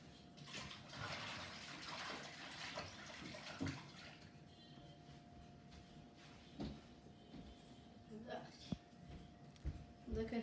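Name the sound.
rinsing hands under running water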